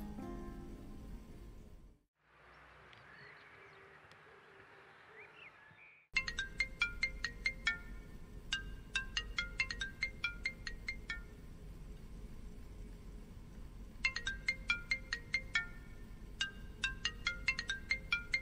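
A phone ringtone plays in repeated bursts of bright electronic tones, fairly close, after a brief stretch of quieter background noise.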